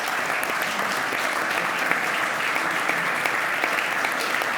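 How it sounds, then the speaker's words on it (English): Steady, dense applause from a conference audience honoring the panel guests at a digital finance event in Frankfurt, sustained at an even level throughout with no pauses. "I would like to give a round of applause to our wonderful panel guests today"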